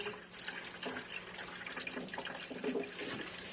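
Engine coolant glugs and trickles steadily as it is poured without a funnel into a broken truck, a continuous close liquid splashing with occasional gurgling bubbles.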